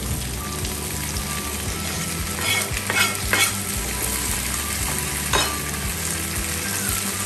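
Organic tomatoes sizzling and frying in a hot pan, with a utensil stirring and scraping through them in irregular bursts, close and steady with no talking.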